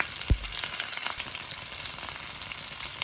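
Mustard seeds splutter and pop in hot oil for a cabbage palya, a steady close crackling sizzle with one sharp louder pop near the start.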